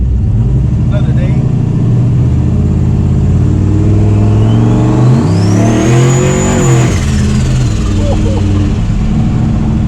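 A turbocharged Chevy OBS truck engine accelerates while driving, loud and close, with rising revs and a sharp turbo whistle sweeping up and back down, while people talk over it.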